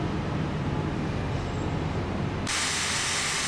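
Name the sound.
steam locomotive letting off steam, Train Simulator (Railworks) video game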